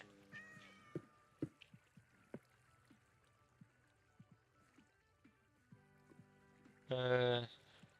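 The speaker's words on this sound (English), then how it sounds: "Ooh, cat." A cat meows a couple of times in the Minecraft video game, light and fairly faint, among scattered soft clicks and taps, followed near the end by a short, loud, harsh burst of game sound.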